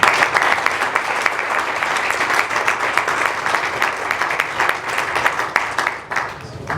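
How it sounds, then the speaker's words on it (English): Sustained audience applause for speaker Loulou at a Startup Grind Muscat event, a dense, steady wash of many hands clapping that carries on loudly throughout before easing slightly near the end. "We can give Loulou a big round of applause."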